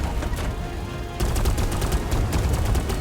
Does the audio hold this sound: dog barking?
no